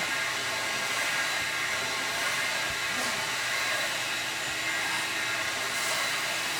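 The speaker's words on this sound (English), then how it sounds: "one of the things about extractors is they're a great tool when you use them right" A carpet extractor doing dry passes over car carpet gives a loud, steady vacuum roar that runs unbroken for the whole stretch, with only slight swells as the tool moves.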